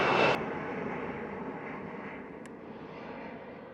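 A jet airliner departing a Jamaican airport, its broad engine roar loudest at the very start and then holding as a steady, slowly fading rumble, with no voices.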